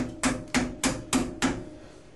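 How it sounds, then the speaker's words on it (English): A screwdriver works a shower cartridge retainer pin into place, giving five evenly spaced, sharp metallic taps close to the microphone, each fading quickly, with no talking. "Kind of guide the pin a little bit with the screwdriver here."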